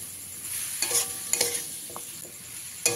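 Figs being stir-fried in a pan with added water: a soft, steady sizzle with repeated scraping strokes of a spatula against the pan, close and fairly quiet, with no voices.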